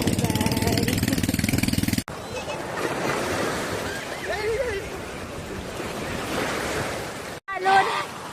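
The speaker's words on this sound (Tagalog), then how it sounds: "Alon." Ocean waves wash steadily onto a sandy beach during a family outing, a broad continuous surf roar with surging swells, while people talk and call out nearby.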